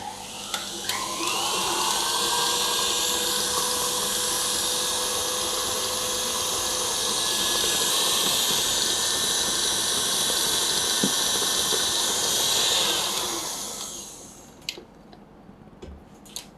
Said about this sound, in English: I'm going to run the beater on medium speed for another 2 minutes